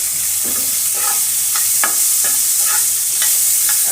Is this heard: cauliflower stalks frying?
yes